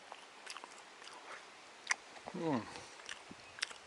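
Someone bites into and chews charcoal-grilled homemade bread with a crunchy charred crust, giving a few close, brief crunches under soft murmured talk.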